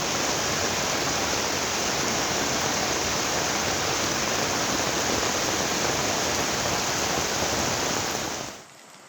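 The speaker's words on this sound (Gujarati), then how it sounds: "શેરીઓમાં નદીની જેમ પાણી વહેતું થયું" Monsoon rainwater from heavy North Gujarat rain rushing through village streets like a river: a loud, continuous, dense roar of flowing water that holds steady throughout, then drops away abruptly at the very end, with no voices.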